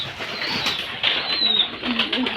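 Pigeons, including a white one, in a home bird coop on a summer day, with soft cooing and bursts of wing flapping close by, steady and fairly loud.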